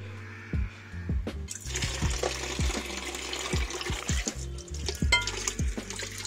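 Water splashes and runs over an aluminium crankcase from a Yamaha RX during a DIY restoration rinse, a steady close wash broken by clunks and knocks as the casing is handled.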